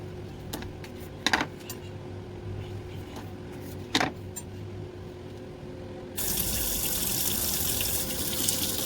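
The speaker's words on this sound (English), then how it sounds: "I've got the hot water on my sink" Hot water runs from a sink tap during buttercream cake decorating. A few faint clicks and taps sound over quiet room noise, then a steady, close rushing stream starts partway through and continues to the end.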